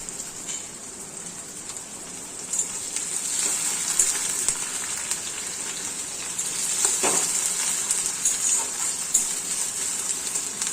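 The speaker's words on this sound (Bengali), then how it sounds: "এরপর আমি দিয়ে দিচ্ছি পেঁয়াজ কুচি। পেঁয়াজটা ভালো করে নেড়ে চেড়ে ভেজে নিচ্ছি।" Chopped onion fries in mustard oil in a wok, a steady bright sizzle running throughout with occasional clinks and scrapes of stirring.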